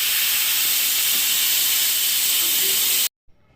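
Beef curry with eggplant, potato and tomato cooking in a pressure cooker on an induction cooktop, a loud continuous steam hiss from the whistle that cuts off abruptly near the end.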